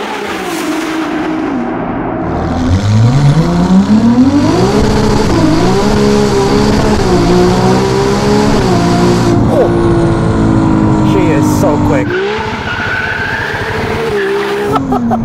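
An 868 hp Novitec-tuned Ferrari 296 GTB with a hybrid V6 accelerates hard, its loud engine note climbing steadily through the gears, with brief dips at the shifts before the pitch rises again.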